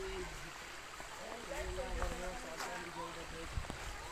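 River water flowing past near a farm, a continuous rushing wash with wind noise, while people talk and call out over it.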